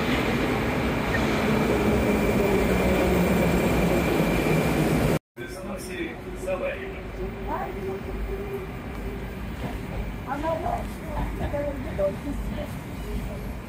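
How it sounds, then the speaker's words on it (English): Metro train ride in Moscow: a loud, steady rumble of the moving carriage, then after a brief cut a quieter station-like hum with scattered clatter and distant voices. "Okay, I just got off the metro."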